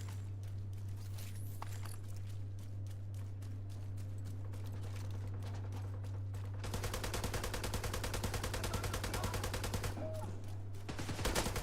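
An M60 machine gun firing in the video game The Division 2, with scattered shots first, then a loud sustained rapid burst of evenly spaced rounds lasting a few seconds, over a constant low hum.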